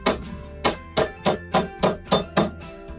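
A mason hammers nails, striking about eight sharp, evenly spaced blows at close range with no talk.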